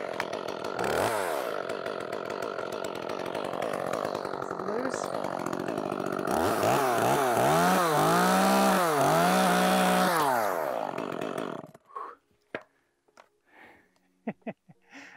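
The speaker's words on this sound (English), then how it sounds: "Time for a chainsaw test." Chainsaw cutting into a lanyard, a steady loud motor drone whose pitch sags and swells as the chain bites, then cutting off abruptly and leaving scattered light knocks and handling noises.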